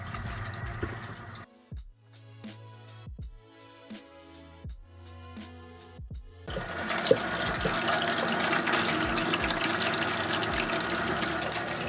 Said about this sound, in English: The tankless water heater's been running for over an hour